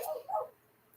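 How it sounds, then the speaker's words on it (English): A small mop-topped pet dog gives a couple of quick yips close by, then falls quiet. "Sorry about the barking dog."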